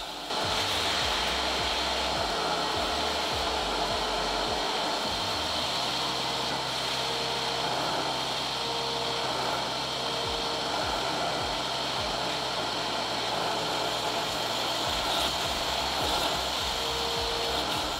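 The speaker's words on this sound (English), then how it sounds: "For this next test, I'll be cleaning this dirty carpet mat" A Bissell Little Green HydroSteam portable carpet cleaner works over a dirty carpet mat, giving a loud, steady motor whine with suction hiss that runs without a break, plus a few low bumps and scrubbing shifts.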